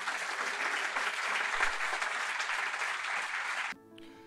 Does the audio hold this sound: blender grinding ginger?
no